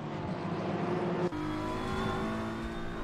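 Race car engine in Assetto Corsa Competizione at Zolder, accelerating hard out of a chicane, a loud steady drone with rising harmonic tones after a brief gear-change dip midway.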